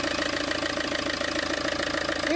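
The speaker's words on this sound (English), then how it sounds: "you can hear the engine" An Iveco van's engine runs steadily at idle, a close, even mechanical drone with a faint knocking pulse and no pauses.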